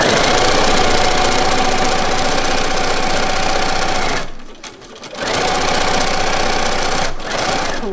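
A sewing machine stitches quilt binding with a quarter-inch seam, a loud, steady, close mechanical whir that stops briefly partway through and then resumes.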